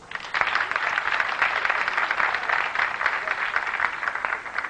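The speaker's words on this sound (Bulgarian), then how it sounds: "На това място най-силно обикновено пляскат участниците" Applause from participants at a Bulgarian studio contest, a dense, steady clapping crowd that holds at a loud level for several seconds without any talking.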